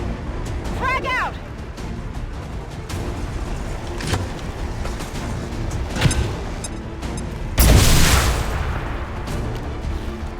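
A frag grenade detonates in XCOM 2, a loud broad blast with a rumbling tail rising above a busy battlefield bed of game effects and a soldier's voice.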